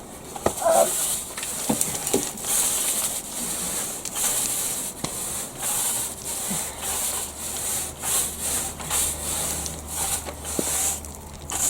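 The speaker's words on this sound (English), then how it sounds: "So in I go to brush off as much as I possibly can." Sand and rubble being brushed off a surface in a cottage garden, repeated rough scratchy bristle sweeps in uneven strokes, close and fairly loud, with occasional light knocks and no voices.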